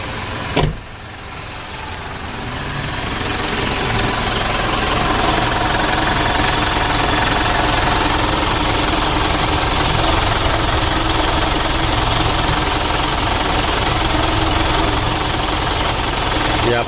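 Mitsubishi Pajero Sport Dakar DI-D diesel engine, not yet fully warm after overheating damage, running at a steady close, loud clattering idle after a brief knock at the start.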